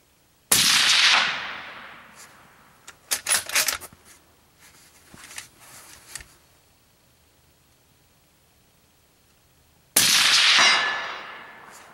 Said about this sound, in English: we'll probably just get a bunch of headshots on that plate just for fun